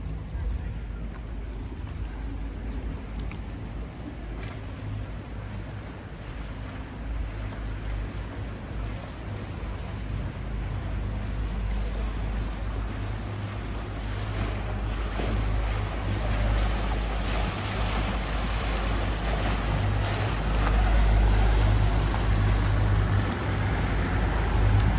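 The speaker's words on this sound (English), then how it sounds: "And here's a water taxi, which you can take." Venice water taxi on a canal, a steady low engine rumble and water wash swelling louder toward the end, with wind buffeting the microphone throughout.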